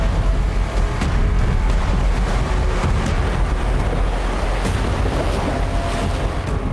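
Strong current in the Arabian Sea sloshes around a rocking boat, a loud, continuous rush of churning water with heavy wind buffeting near the microphone and no speech.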